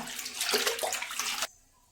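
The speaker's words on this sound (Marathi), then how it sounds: "पुन्हा दुसऱ्या पाण्यात मी धुवून घेणार आहे पालेभाजी कापण्याच्या अगोदरच धुवून घ्यायची आहे" Spinach leaves are swished and rinsed in a bowl of water, giving a close, busy splashing and sloshing that runs for about a second and a half and then stops abruptly, leaving near silence.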